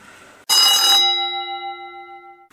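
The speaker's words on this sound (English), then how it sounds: "The school bell went" A school bell rings out loud and alone in a single strike, its bright metallic tone sustaining and slowly fading over about two seconds after brief quiet room sound.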